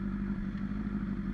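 A Honda CBR 1000RR Fireblade sport motorcycle on a ride, its engine a steady, close, low drone with a faint clattery texture that holds evenly throughout, with no talking.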